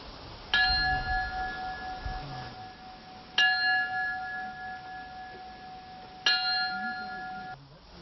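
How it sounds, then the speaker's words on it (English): A bell rings at a 9/11 memorial ceremony at the Garden of Reflection in Yardley, Pennsylvania: three clear, evenly spaced strikes about three seconds apart, each ringing out with a long sustained tone over quiet outdoor ambience. "The ceremony started with a bell ringing at 8:30"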